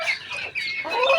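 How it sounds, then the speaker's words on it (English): Chickens in a village coop beside a mud house in Kenya cluck and squawk continuously for a moment, close and fairly loud, with overlapping bird calls and no speech. "And this is our chicken den. This is our chickens."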